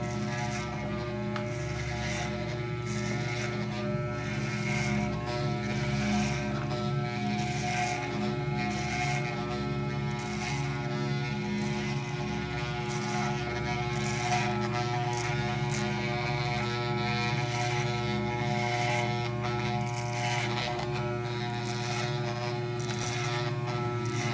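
Electric hair clippers with a number 3 guard buzz steadily while cutting a man's fade haircut, a continuous close hum with faint rasping as the blades pass through hair.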